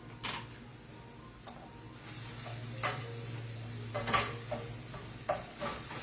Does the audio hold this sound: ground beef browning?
yes